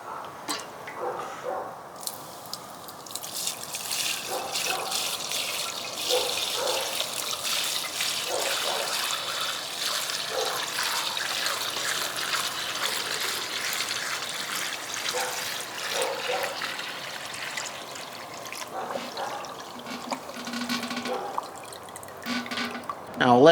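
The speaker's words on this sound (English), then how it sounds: "Now I'm going to strain this off through a cheesecloth." Melted bear fat strains through cheesecloth with a soft, continuous trickle and intermittent drips, fairly close and quiet.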